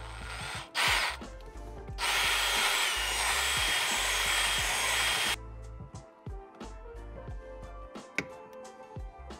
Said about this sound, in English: Drill a nice little hole right here.